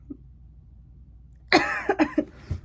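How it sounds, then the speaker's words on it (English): A quiet lull, then a single harsh cough burst followed by a few shorter cough sounds, close and clear. "I need to cough again."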